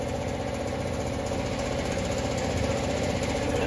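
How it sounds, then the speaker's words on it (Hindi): A compressed air blower cleans a new Bullet motorcycle, giving a loud, steady, continuous rushing hiss with a droning engine-like rumble underneath and no break throughout. "प्रेस चल रही है, पूरी हवा से क्लीन करी जा रही है बाइक अभी"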